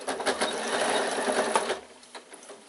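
A sewing machine runs in a steady, close burst while stitching layers of wadding for a bag, then slows and fades toward the end.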